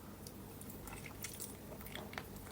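A man eating chicken and swallowing it nearly whole, with soft close-up biting and squishy mouth sounds over a steady low hum and no talk.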